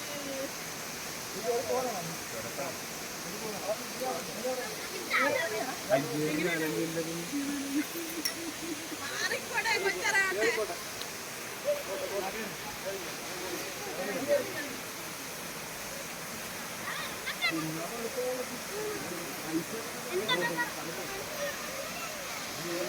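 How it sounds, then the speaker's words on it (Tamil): A hidden waterfall in a Kerala forest gives a steady, broad rushing roar throughout, with voices talking faintly over the constant flow. "இங்கேருந்து இந்த ஆள் இல்லாத அருவியை உங்களுக்காக எடுத்து காமிச்சிக்கிட்டு இருக்கேன்"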